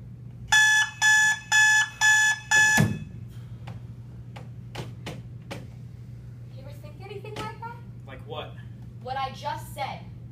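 An alarm clock rings in five quick, loud electronic bursts, then cuts off with a clunk, followed by scattered clicks and a person speaking.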